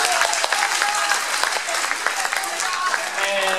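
An audience at a 2017 school farewell musical applauds the parents who helped, a dense sustained patter of many hands clapping close by, with a voice heard faintly through it.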